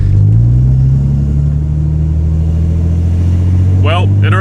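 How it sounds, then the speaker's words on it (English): A Ford Falcon E-Series fitted with a 400HP Barra engine and short-ratio LSD accelerates on a test drive: a loud, steady, close engine drone rising gradually in pitch, with a brief burst of speech near the end. "we're going to take the E-Series for a test drive"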